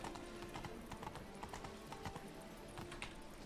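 In The Witcher 3 video game, a horse's hooves clop on stone castle stairs in a quick irregular clatter of many steps that continues throughout, fairly close but quiet in the game mix, with a faint voice underneath.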